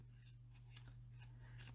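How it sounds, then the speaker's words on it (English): Scissors snip through dimensional foam adhesive pads in a few quick, soft crisp cuts over a faint steady hum, close and quiet, with no talk. "You just snip all your dimensionals with a pair of scissors."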